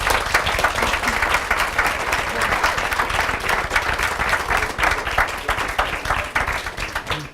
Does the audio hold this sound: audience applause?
yes